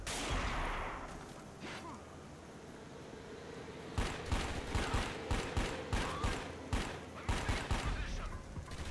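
Gunfire in the video game Dark Sector comes in bursts of sharp shots from about four seconds on, following a quieter stretch with a whoosh near the start. A voice talks intermittently over the game sound.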